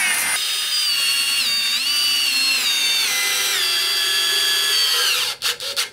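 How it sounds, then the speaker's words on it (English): A power drill fitted with a 7/32 drill bit bores into a thick wood board, its motor whine loud and close and rising slightly in pitch over several seconds before stopping with a few short bursts at the end. "So for this, I'm using a 7/32 drill bit."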